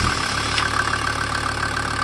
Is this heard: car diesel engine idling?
yes